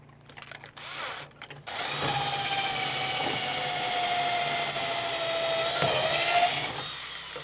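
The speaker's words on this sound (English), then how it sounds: "I have this big long auger bit, 1/4 inch, and we're going to go ahead and finish drilling those holes" After a couple of short stop-start bursts, a power drill with a long 1/4 inch auger bit bores steadily through timber on a tractor barn build, a sustained whining drone for several seconds.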